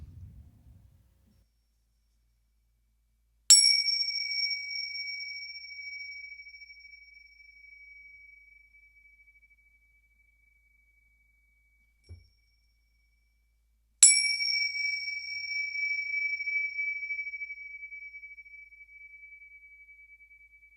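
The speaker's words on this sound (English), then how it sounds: "The meditation will begin after the 3 bells." Two clear bell strikes about ten seconds apart, each a bright ringing tone that lingers and slowly fades into silence.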